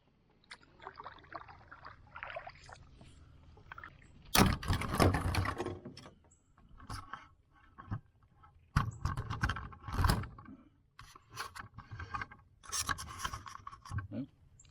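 Canoe paddle strokes swish and splash through water in uneven bursts, with quiet dripping and knocking between strokes; no talking.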